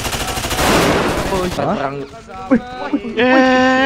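Rapid bursts of automatic gunfire in the video game GTA V open the clip, then voices call out over it with a few more scattered shots.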